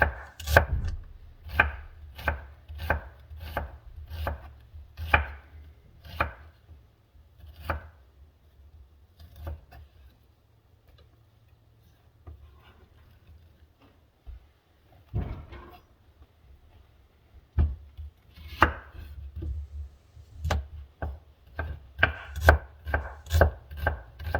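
A paring knife slices cucumbers for bread and butter pickles, making a quick, even run of crisp taps on a cutting board. The taps pause midway, then resume in a steady rhythm, close and clear with no talking.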